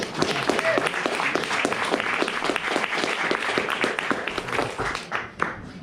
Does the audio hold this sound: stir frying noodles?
no